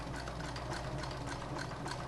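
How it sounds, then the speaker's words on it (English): Sewing machine back-stitching close to the edge of a leather cross shoulder bag, a steady rapid mechanical whir and clatter running continuously at close range with no talk. "now I'm going to do a back stitch"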